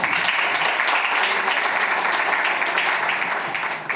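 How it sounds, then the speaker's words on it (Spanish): Steady applause from a conference audience, dense and continuous, tapering slightly at the end. "Un aplauso, por favor."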